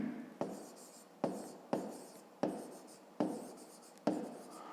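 A pen writes by hand on paper, close and quiet: a run of six or seven sharp scratching strokes, each fading before the next begins, with no speech.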